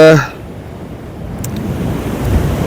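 Strong wind gusting across a UK beach at Anglesey, a steady loud roar of wind buffeting the microphone with surf beneath it, continuous for a few seconds.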